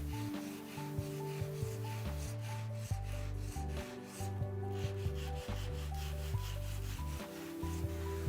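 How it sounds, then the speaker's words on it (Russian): Plaster putty rose petals on a bas-relief being reworked by hand with a folded piece of abrasive mesh along petal edges and joins, giving a steady close scratchy rubbing with short repeated strokes throughout. "Сворачиваем ее пополам и начинаем дорабатывать места смыкания и"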